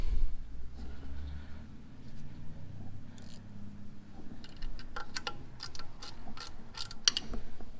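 A wrench ratchets while working on a part for an IH 1086 tractor: a run of sharp, close metallic clicks in the second half, over a low, steady background rumble.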